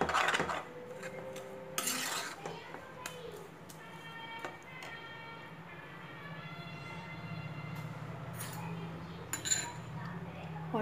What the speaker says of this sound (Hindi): कंटिन्यूसली इसको चलाते रहेंगे, नहीं तो नीचे से ये जल भी सकता है।